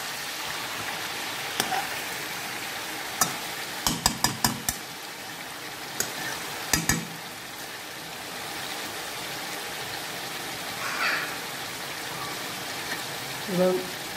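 Chicken pieces fry in their own juices for Bengali chicken kosha, a soft, rain-like sizzle running throughout, broken by a quick series of sharp clacks from a spoon against the pot and later gentle stirring.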